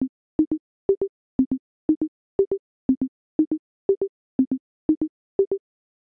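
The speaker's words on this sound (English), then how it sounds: "Now we can hear both the dry signal and the signal that went through the delay." A synth tone programmed in ChucK, passed both dry and through a delay effect, so each short pitched blip is followed by a quick echo. The pairs repeat at an even pace over about six seconds, cycling through a few pitches.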